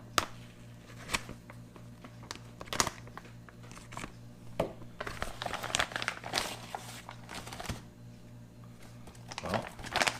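A 1979 freeze-dried ration packet is cut open, with close crinkling and rustling of its plastic wrap and a few sharp snips and tears, quiet, with no talking.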